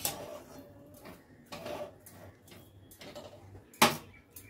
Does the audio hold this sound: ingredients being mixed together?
yes